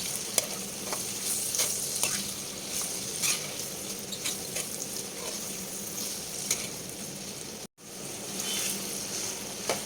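Pork and black beans sautéing in a pan for a tinawsihang sauté, a continuous close sizzle and crackle with frequent stirring scrapes, briefly cut off near the end before resuming.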